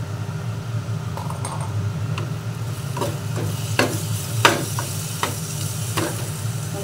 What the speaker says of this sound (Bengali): এবার আমি নুনটা মিশিয়ে দিচ্ছি